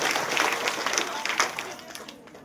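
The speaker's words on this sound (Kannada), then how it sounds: "ಜೋರಾದ ಚಪ್ಪಾಳೆ ಬರಲಿ, ನಮ್ಮ ಚಪ್ಪಾಳೆ ಬರಲಿ." Crowd at a women's seminar in Chintamani claps to welcome a guest, a police sub-inspector. The patter is moderate and somewhat distant, with voices mixed in.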